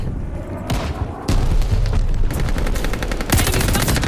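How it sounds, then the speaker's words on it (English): In Call of Duty Vanguard, a sticky bomb goes off amid heavy game combat: a sudden loud blast that holds as a sustained roar, with rapid gunfire-like crackling bursts continuing close around it. "Using a sticky bomb."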